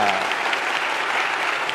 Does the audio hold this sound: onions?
no